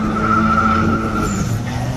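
A twin cam Toyota Corolla drift car skids in a sustained tire squeal over a steady engine drone, heard close and fairly loud.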